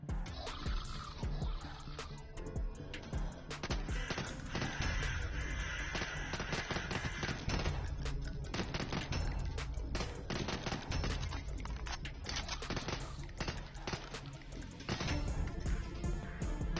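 Assault rifle gunfire in the Zombie Hunter video game plays as dense, rapid bursts of loud shots that run almost without pause over a busy backdrop of game sound.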